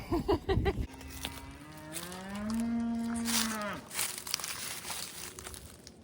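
A young calf lets out one drawn-out, rising moo, close by, preceded by some rustling and crinkling noises.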